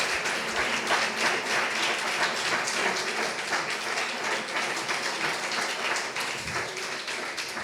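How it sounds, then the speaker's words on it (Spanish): Sustained applause from a seated audience at a book talk, dense steady clapping filling the room for several seconds with no break, loud and close. "Please, a round of applause."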